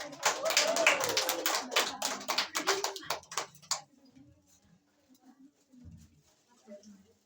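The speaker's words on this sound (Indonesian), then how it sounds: "Tepuk tangan untuk Mbak Wanda." A few people clap in a classroom micro-teaching session for a student named Wanda, a short burst of close, sharp hand claps over the first few seconds that fades into quiet room noise with faint movement.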